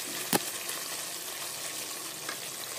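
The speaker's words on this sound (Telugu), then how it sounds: "గ్రేవీ బాగా మరిగింది." Thotakura liver curry gravy simmers in a pan with a faint, steady bubbling hiss, broken by one brief sharp click near the start.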